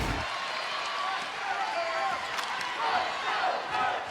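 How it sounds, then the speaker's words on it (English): A women's college basketball crowd in College Park roars and cheers after a turnover, a dense arena din with shoe squeaks and shouts beneath a commentator's voice. "And the crowd has come alive after forcing that turnover"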